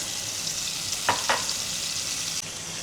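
Green beans and minced garlic sautéing in a pan give a soft, continuous sizzle, broken by two quick utensil clinks near the middle and a slight drop in level toward the end, with no voices.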